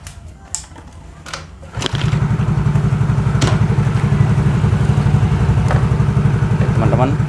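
A Yamaha X-Ride motorcycle with a stalling and misfire fault is started after a few faint clicks, its engine catching and settling into a loud, steady, close idle that runs to the end.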